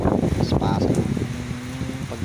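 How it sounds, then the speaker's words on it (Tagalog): Strong typhoon wind during Typhoon Paeng in Rizal, Occidental Mindoro, roaring loudly with heavy microphone buffeting and a dense low rumble, while a voice speaks over it. "patuloy na malakas, malakas na malakas ang hangin."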